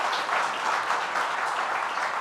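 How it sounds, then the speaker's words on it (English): A crowd claps steadily for Mayor Mike Spano at a governor's event on Mid-Hudson regional investments: a dense, even wash of applause with no talking. "A round of applause for our Mayor Mike Spano"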